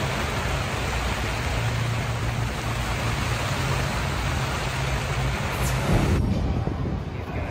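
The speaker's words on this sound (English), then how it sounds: "It's pouring." Heavy rain pours down at a Daytona Speedway campsite as a dense, unbroken hiss with a low steady hum underneath, loud and close throughout.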